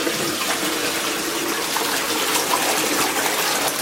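A Saniflo macerator pump behind a toilet, just cleared of a blockage, pumps water out as a loud, steady rushing gush of water that continues without a break.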